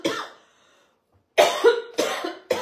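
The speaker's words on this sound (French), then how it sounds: "Il ne faut pas que je commence à tousser." A short cough at the start, then after a pause a run of several harsh, close coughs in quick succession from a woman presenting a live baking session in a home kitchen.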